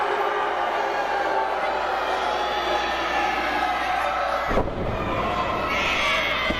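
Wrestling fans at a Capital City Wrestling show cheer and shout loudly in a dense, continuous roar, with a sudden surge of yelling and a brief impact-like burst partway through before the crowd noise swells again.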